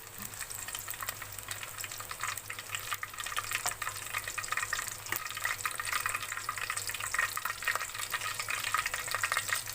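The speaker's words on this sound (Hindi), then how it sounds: "अब इसको हल्की आंच में थोड़ी देर फ्राई कर लेंगे।" Capsicum and potatoes fry over low heat in a pan, giving a steady, soft sizzle and crackle throughout with occasional faint stirring clicks and no talking.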